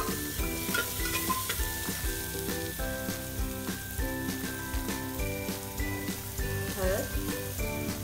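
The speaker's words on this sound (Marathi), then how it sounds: "कांदा याच्यामध्ये आपण व्यवस्थित मिक्स करून आता फ्राय करून घ्यायचा आहे." Onion and tomato sizzle and get stirred in an oil-filled pan while cooking a traditional village vegetarian dish, a steady frying hiss with scraping stirs, under background music and a voice.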